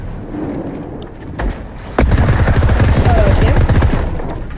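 Fortnite gameplay gunfire, with a few scattered shots, then a dense, rapid stream of close shooting that continues for a couple of seconds before easing off.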